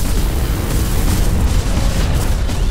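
Dense, continuous booming blasts and weapon fire from mech combat in the video game Hawken, loud and sustained throughout with no talking.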